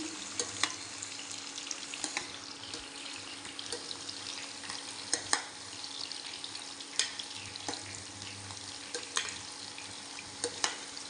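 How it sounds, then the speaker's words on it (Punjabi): Sliced ridge gourd frying in a pan, a steady low sizzle broken by repeated scraping clicks of a spoon stirring the pieces, close and fairly quiet with no talk. "ਇਹਨੂੰ ਇਦਾਂ ਆਪਾਂ ਚਮਚਾ ਫੇਰ ਫੇਰ ਕੇ ਚੰਗੀ ਤਰ੍ਹਾਂ ਫਰਾਈ ਕਰ ਲੈਣੀ ਹੈ"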